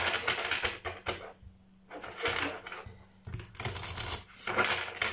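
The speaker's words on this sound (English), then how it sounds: "Let me shuffle" Tarot cards being shuffled by hand in bursts of dry, rapid riffling and clacking, separated by short pauses, close and fairly quiet with no talking.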